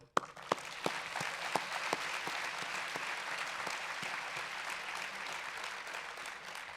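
Steady applause from a conference keynote audience, dense clapping that starts with a few distinct claps and swells into continuous, moderately loud applause throughout.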